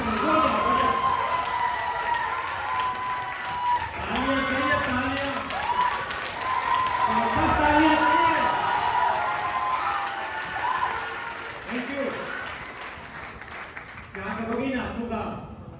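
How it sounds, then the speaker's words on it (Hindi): Applause and cheering from an audience at a business event in Bhagalpur, with steady crowd clapping and shouts running under a loud amplified voice that speaks throughout. "मैं चाहूंगा जोरदार तालियां बाबू संजय से"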